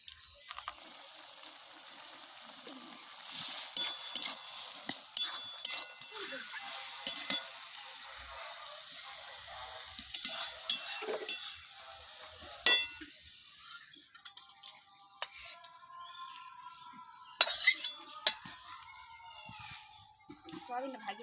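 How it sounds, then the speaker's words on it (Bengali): Soybeans frying in hot oil in a pot in a Bengali home kitchen, a soft steady sizzle under occasional clinks and scrapes of stirring, with someone talking now and then. "সয়াবিনটা ভাজবো, হাড়ি তুলিলি অনেকক্ষণ ভাত রবড় দিয়েছি তো। তেলটা গরম হয়ে গেছে।"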